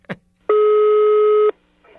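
A single steady telephone line tone lasting about a second sounds clearly while a call is being placed, with brief small noises before and after it.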